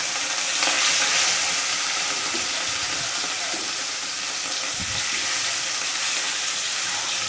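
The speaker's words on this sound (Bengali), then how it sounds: "মাছ ভাজা হচ্ছে।" Fish sizzling steadily in hot oil in a wok, a dense, even crackle with occasional louder pops and stirring scrapes, close and loud with no talking.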